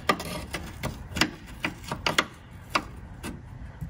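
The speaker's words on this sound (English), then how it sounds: "Okay, I'm gonna take my wrench." A wrench works on a nut on a 1961 Morris Minor pickup, giving a series of sharp, irregular metallic clicks and ratchet-like ticks close by, with no talking.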